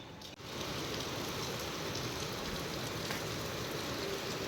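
Steady rain falls as a constant soft hiss that has been going on all night. It sounds moderately close and stays unbroken for the whole stretch, with no talking.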